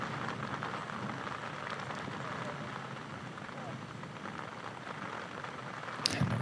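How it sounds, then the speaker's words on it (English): Steady rain falls on an outdoor disc golf course, an even, continuous hiss filling the whole stretch, with a sharp little knock near the end. "And the rain is just still coming down."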